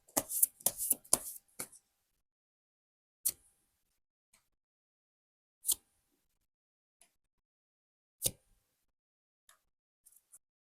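Tarot cards being shuffled and drawn: a quick flurry of crisp card flicks and slaps at the start, then single sharp taps spaced several seconds apart, quiet and close with near silence between them.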